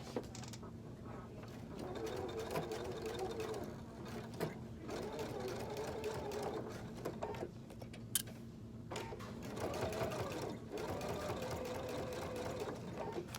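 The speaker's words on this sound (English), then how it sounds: "I'm going to lengthen my stitch length out to normal again and just stitch all the way around that box" A sewing machine stitches around a box on a cork handbag, with a steady rapid mechanical whir and clatter running continuously close by, slowing slightly in a couple of spots.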